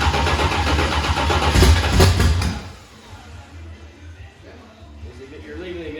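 Dirt-track race car with a brand-new 434 engine being cranked and fired at a raceway: a loud, rough engine burst for about three seconds, then dropping to a lower rumbling idle, with people talking nearby.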